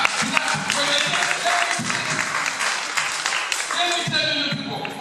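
An audience of secondary school students claps in sustained bursts at a presentation to candidates, loud applause in several waves with a voice talking over it.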